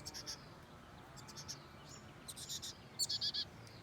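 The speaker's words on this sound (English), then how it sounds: "Can you hear that? There are some baby birds in there" Faint, high-pitched chirping of baby birds inside a birdhouse comes in short bursts, growing into a quick cluster of peeps near the end, over a quiet background hum.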